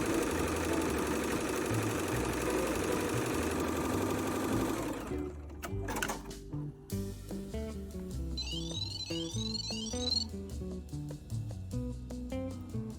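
A JUKI embroidery machine stitches Christmas tree skirt fabric with a steady, rapid mechanical whirr and patter for about five seconds. The stitching then turns into intermittent bursts over background music, with no talking.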